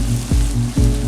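Onion, ginger and green chili frying in a pan for daal mash, a steady close sizzle with two regular low swooshing pulses, as if from stirring.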